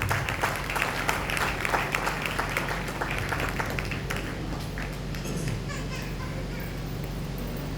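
Church congregation claps loudly to welcome a pastor, a dense burst of applause that thins and fades over several seconds, with a few scattered voices underneath.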